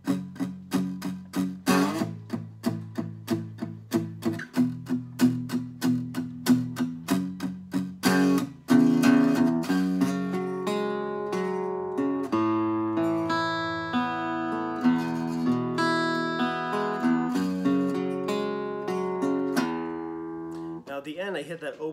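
Guitar plays the verse of a song as a steady stream of picked, rhythmic notes and chords, moderately quiet and close, with a denser ringing passage midway and no talking.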